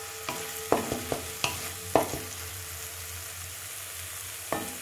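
Onion frying in a pan during egg curry preparation, a steady sizzle broken by several sharp scraping stirs of a spatula, close and fairly loud, with no talking.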